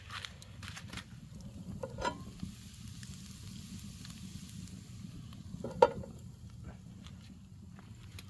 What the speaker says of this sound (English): Right, got the bacon in there. Got the hash browns